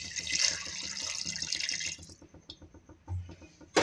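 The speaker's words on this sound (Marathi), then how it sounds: "आता ह्यामध्ये आपल्याला अर्धा ग्लास पाणी घालायचं आहे।" Half a glass of water poured into mutton in a pot, a close splashing gush for about two seconds that then stops, followed by faint drips and small clinks.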